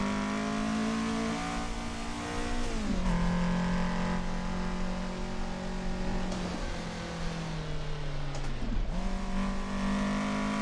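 Toyota AE86 engine on a mountain touge run, loud and close, its drone rising under throttle, dipping sharply around three seconds as it comes off for braking, then holding steady before another quick drop near nine seconds.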